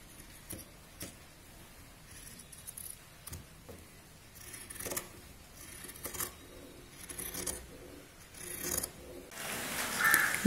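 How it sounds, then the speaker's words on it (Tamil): Scissors cutting cross-piece cloth for a dhoti-style pyjama, a quiet series of crisp snips and rustles in uneven bursts that grow a little louder toward the end, close by with no talking. "இப்போது இதை சுற்றி வெட்டிக்கிட்டு வரணும்."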